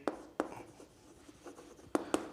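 Handwriting a physics definition during a class lecture on measurement errors, likely pen on paper: a few short, scratchy strokes come in quick isolated bursts, close but faint, with quiet pauses between.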